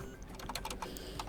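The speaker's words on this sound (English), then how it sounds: "we have to type in this command, basically the same way that we did it before" A command being entered on a computer keyboard in a Linux terminal: quick, light key clicks in a short close burst, fairly quiet, with no voice.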